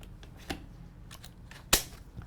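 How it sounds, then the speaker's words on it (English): A rollator front wheel is pushed into its frame, with a faint click followed by one sharp, loud snap as it locks in place, set against quiet room noise. "Make sure you hear it lock in place."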